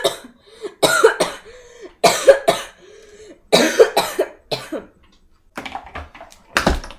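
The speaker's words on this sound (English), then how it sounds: "It's a cough." A girl coughing in several harsh, close bursts, some in quick doubled pairs, separated by short pauses with faint vocal sounds between them.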